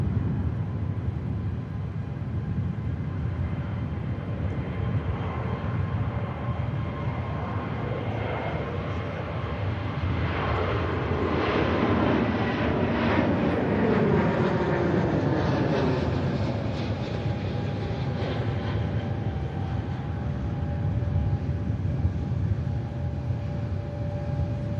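A Gulf Air airliner departing Manchester Airport produces a broad, steady jet roar that swells to a fuller rumble midway as it passes, then slowly fades.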